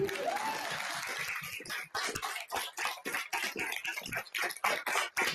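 Audience applause after a talk at an art lab event, starting as a smooth wash of clapping that thins into scattered, separate claps and uneven bursts before trailing off.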